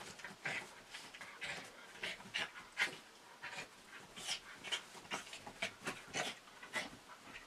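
A wet dog pants in quick, repeated bursts, with excited whimpering and scuffling as it thrashes about in a frenzy, close and fairly loud throughout, with no talking.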